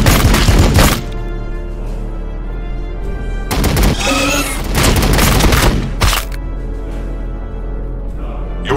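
Heavy fire support gunfire in the Warhammer 40,000: Battlesector video game arrives as loud, repeated blasts and rattling volleys with a booming low end, a few close bursts spread across a sustained din.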